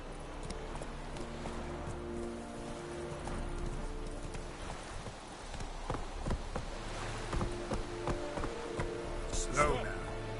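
Roach, Geralt's horse in The Witcher 3: Wild Hunt, clip-clops along in a steady hoofbeat rhythm, close and moderately loud, with game music and a voice talking over the hooves.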